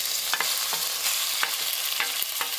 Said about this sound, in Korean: 냄비에 식용유와 참기름을 붓고 돼지고기를 넣어줍니다.